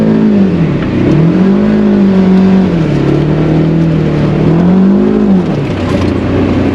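A Polaris Ranger Northstar utility vehicle with a new clutch kit drones close by in performance mode, its pitch swelling and dipping repeatedly as it accelerates, with a steady rough mechanical rumble underneath.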